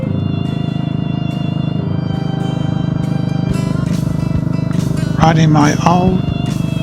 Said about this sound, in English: I'm riding on my old 350 Royal Enfield steed of the day.